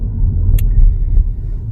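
Steady low engine rumble and road noise from inside a car being driven, with one brief bright click partway through and no talk.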